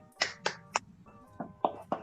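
An upper-grade elementary class performs a rhythmic spirit clap in a classroom: two groups of three sharp, close hand claps separated by a short pause, with faint voices between them.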